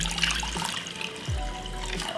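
Two cups of water pour into a pot in a home kitchen while making vegan ramen, a soft steady trickling splash running through the short moment at moderate volume.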